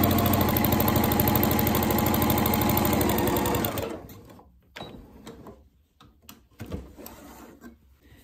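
A sewing machine fitted with a walking foot and guide runs steadily while stitching evenly spaced quilting lines, a loud continuous mechanical whir that stops abruptly partway, leaving faint handling clicks and rustles.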